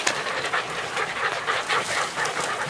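A podenco hunting dog pants steadily in rapid, breathy bursts, close and fairly loud, out in dense bramble scrub, with no talk over it.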